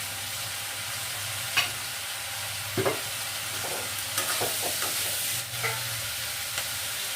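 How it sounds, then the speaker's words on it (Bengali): Ginger garlic paste and mutton sizzle steadily in a pan while a spatula scrapes and stirs, giving irregular clicks and scuffs over the continuous close frying hiss. "যতক্ষণ না আমার একটা আদা রসুনের কাঁচা গন্ধটা যাচ্ছে, ততক্ষণ আমি নাড়িয়ে যাব"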